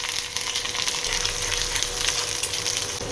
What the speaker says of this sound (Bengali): পেঁয়াজটা একটু ভাজা ভাজা করে নিই